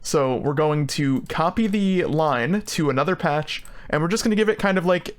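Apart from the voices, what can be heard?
No everyday noise stands out behind the speech.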